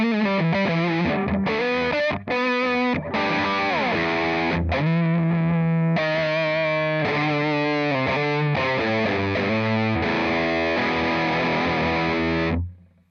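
Distorted electric guitar run through a Neural DSP Quad Cortex with compressor and drive stages, playing loud sustained chords and riffs with short gaps, ringing out alone with no talk for about twelve seconds.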